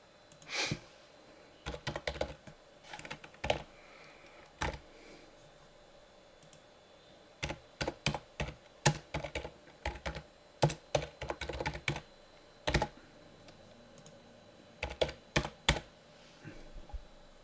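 Fingers typing on a computer keyboard in quick bursts of sharp clicks separated by short pauses, close and fairly quiet, with no talking over the keystrokes.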